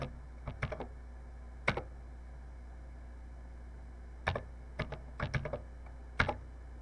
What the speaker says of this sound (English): So this is, would be like trying to type a program on one of those.